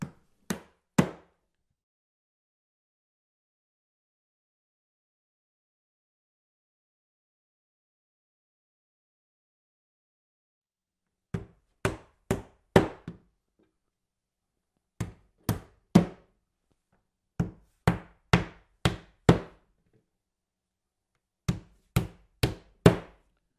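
Carpet shim being nailed down with 4.5 inch ring shank nails: sharp hammer blows in quick bursts of three to five strikes, separated by long silent pauses, close and clear.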